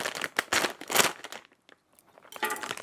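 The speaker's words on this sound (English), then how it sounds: "So let's puncture this open." A snack chip bag of hummus tortilla and lentil chips is punctured and torn open, giving a close, loud burst of crinkling and tearing plastic for about a second and a half, a short quiet gap, then more crinkling.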